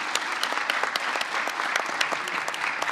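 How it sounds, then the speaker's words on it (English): An indoor conference audience claps together, dense and steady, with individual hand claps standing out throughout. "Please give it a big of applause"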